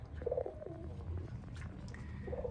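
Pigeons coo softly in a loft, with low, rounded calls recurring at the start and again near the end over a steady low rumble.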